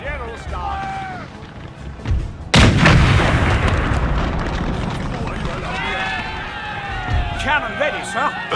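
Cannon artillery fire in the video game Napoleon Total War, set in a Victorian-era Egyptian–Ottoman war, erupts as a loud sudden boom followed by sustained rumbling gunfire, with shouted commands and battle voices over it.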